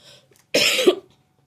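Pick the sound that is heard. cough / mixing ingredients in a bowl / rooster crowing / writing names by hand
cough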